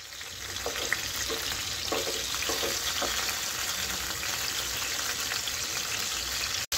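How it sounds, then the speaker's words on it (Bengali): Pieces of hilsa fish are turned in hot oil, giving a steady, close sizzle with a few soft scrapes as they are flipped. No one speaks. "দু পিঠি গরম তেলে উল্টে পাল্টে নিলাম, ভাজা করলাম না।"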